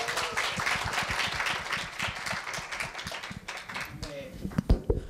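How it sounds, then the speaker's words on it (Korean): Audience applause at a Korea University middle-school speaking festival as a student questioner is called up, a dense run of hand claps filling the clip, fairly close with some brief voices mixed in. "여러분, 첫 질의응답 순서인 만큼 더 큰 박수 부탁드립니다."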